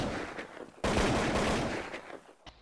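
Gunfire in Counter-Strike on the de_inferno map, heard as a dense loud burst of shots starting suddenly and lasting over a second, with a sharp single crack near the end.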